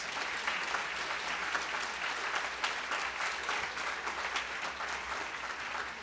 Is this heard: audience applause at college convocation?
yes